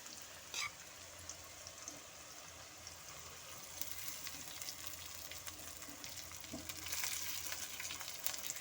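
Cooked rice tipped into a pan of fried cabbage and vegetables for cabbage fried rice, giving a soft, continuous low sizzle with faint scrapes and a brief louder clatter near the start, quiet and without speech.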